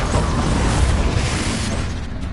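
A Confringo fire-blast spell in the video game Hogwarts Legacy, a loud dense rumbling explosion that fills the whole short moment and slowly tails off.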